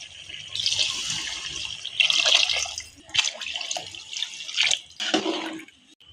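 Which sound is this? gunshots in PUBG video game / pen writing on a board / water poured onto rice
water poured onto rice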